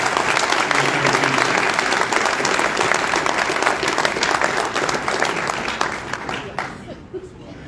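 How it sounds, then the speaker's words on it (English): A full room applauds a student athlete at a sports association's annual banquet, dense clapping and crowd noise holding strong for several seconds before fading out near the end. "Let's give another round of applause for Xavier."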